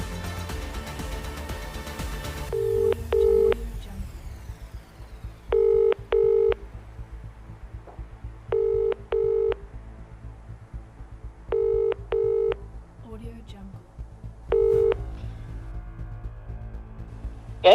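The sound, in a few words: telephone call being dialed and ringing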